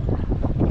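Wind at sea buffets a fishing boat, a loud, steady, rumbling gust noise against the microphone with a low surging roar underneath and no voices.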